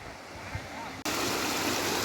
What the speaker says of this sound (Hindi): माही नदी की सहायक नदी के रूप में बहकर जाने वाला यह बरसाती नाला अब जुलाई के माह में जिस प्रकार बह रहा है